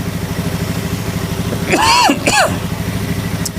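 A Honda Scoopy or Beat motor scooter engine idles with a steady low rumble throughout, while a voice briefly speaks over it.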